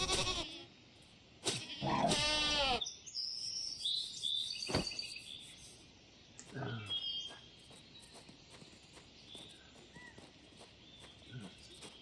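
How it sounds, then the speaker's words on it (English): Goats bleat while fleeing in the video game Wild Terra II, several short wavering bleats early on, followed by sparse game sounds and faint chirps. "There's the goats running away from us."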